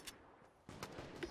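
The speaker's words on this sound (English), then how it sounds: "Who shot that?" Faint gunshots from a Fortnite Battle Royale match: a sharp crack near the start, then a few more bursts close together in the second half, all quiet.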